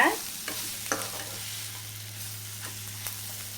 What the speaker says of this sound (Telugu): ఇలా మొత్తం బాగా మిక్స్ చేసుకొని ఒక నిమిషం పాటు ఫ్రై చేసుకుంటే సరిపోతుంది అనమాట